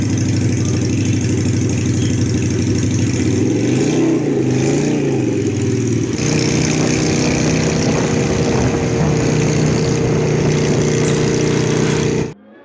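A custom SM Sport V16 Bobber Sportster with a V-twin engine and free-flow exhaust idles loud and close, rumbling steadily with a couple of throttle blips before cutting off abruptly at the end.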